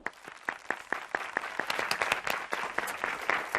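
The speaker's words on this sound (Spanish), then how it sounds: "Un aplauso para él." Studio audience at a Spanish TV quiz show clapping for a contestant from Cartagena, starting as a few distinct loud claps and swelling into steady, fuller applause.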